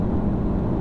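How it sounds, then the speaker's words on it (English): A steady, low engine drone from a BMW i8 with a rumbling exhaust note, continuous and close, with no voices. "I can hear the exhaust now"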